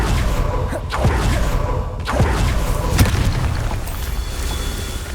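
A Confringo fire spell explodes in Hogwarts Legacy, several booming blasts and thuds spaced about a second apart over a continuous rumbling game background, with no speech.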